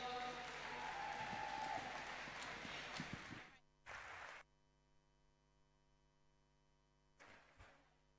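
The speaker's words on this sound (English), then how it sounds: "A big round of applause for Stephanie, everyone." Applause for swimmer Stephanie Slater at a para-swimming event fills the first few seconds loud and dense, fades out around three and a half seconds, then comes back in two brief bursts separated by a quiet, hum-filled gap.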